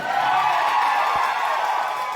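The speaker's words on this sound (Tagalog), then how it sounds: "Yung mas malakas pumalakpak na may kasamang sigawan, yun ang mananalo." A crowd at a Cowboy Grill dance contest in the Philippines claps and cheers loudly, producing a dense, continuous roar of applause and shouting that holds steady throughout.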